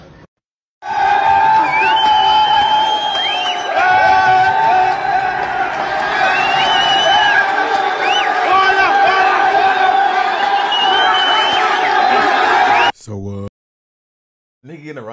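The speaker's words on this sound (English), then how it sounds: "getting a round of applause for his performance" A crowd roars, cheers and whoops for a performance in one long loud burst, with voices shouting over it, then cuts off abruptly near the end.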